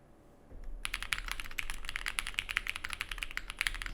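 Fast, steady typing on a mechanical keyboard modded with thick gaffer tape, with dull, muted keystrokes, close up, starting after a brief quiet moment and continuing without pause.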